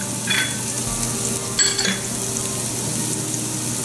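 Chopped onion and garlic sizzle in hot oil in a pan over medium heat, a steady close frying hiss with a few brief clinks of a utensil against the pan.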